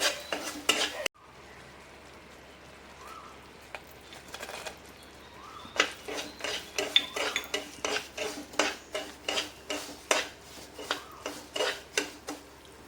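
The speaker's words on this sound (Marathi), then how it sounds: "हा भाजत असताना त्याच्यामध्ये आपण काजू पण ॲड करून भाजणार आहोत" A spatula scrapes and stirs semolina as it roasts on a low flame in a pan, with cashews and raisins added. After a quiet stretch, the close scraping strokes come fast and rhythmic, with no speech.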